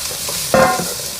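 Sausage and potatoes sizzle in a skillet as red pepper is stirred in, with a steady frying hiss and a short, louder scrape-and-clatter of stirring midway, no talking.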